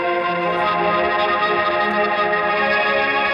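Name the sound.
piercing synth filter resonance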